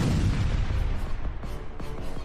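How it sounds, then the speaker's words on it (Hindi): Loud explosion in an action story: a deep rumbling boom fills the opening second, then decays into a rolling roar with a few sharper cracks and pops trailing after. "अचानक वहां जोरदार धमाके की आवाज आई"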